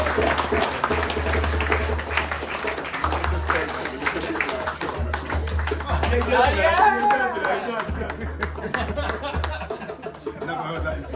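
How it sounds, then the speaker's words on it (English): A theatre audience at a Black History Month playback theatre event gives a round of applause, a dense patter of clapping running under a voice that keeps talking, with light laughter mixed in. "Can we round of applause?"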